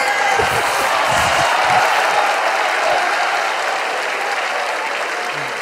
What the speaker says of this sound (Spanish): Yo te aplaudo, hermano, yo te aplaudo.